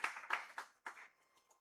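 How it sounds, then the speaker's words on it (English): A faint, scattered handful of claps from a small audience at a youth wealth and business webinar, four or five separate slaps over a second and a half, then quiet. "A big applause, please, to bring it on."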